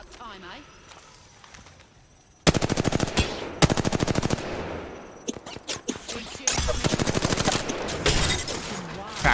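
Rapid automatic gunfire in an Apex Legends firefight, loud bursts of rattling shots in quick succession with brief pauses, mixed with scattered footsteps and effects, while players talk over the action.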